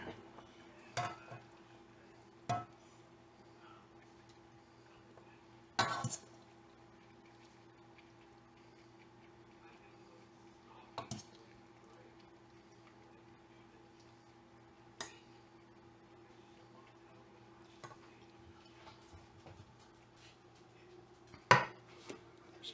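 Plates and cutlery clink while spaghetti is served in a home kitchen. Sparse, sharp single clinks are spaced several seconds apart over a low, steady hum, with faint scraping between the clinks.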